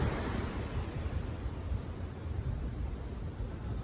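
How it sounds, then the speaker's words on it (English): Large ocean surf breaking continuously on a chilly morning, a dense, loud, steady roar of crashing waves with wind noise buffeting the microphone throughout, no voices. "So these waves are huge."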